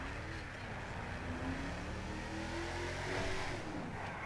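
Mercedes-Benz GLS 63 AMG engine in GTA 5, droning and revving with a reverberant roar inside a tunnel, fairly quiet and steady throughout, no talking.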